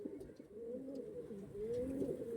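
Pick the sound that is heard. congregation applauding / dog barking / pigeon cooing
pigeon cooing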